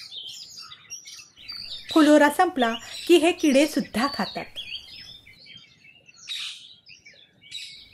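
Sunbirds give scattered thin, high chirps, faint and intermittent, while someone narrates over them in the middle.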